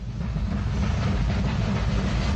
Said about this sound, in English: As a Ventnor train approaches Smallbrook Junction